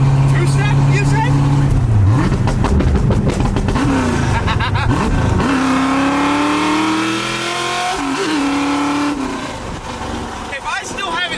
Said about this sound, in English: This is the best sounding car in the world. Two-step, you say?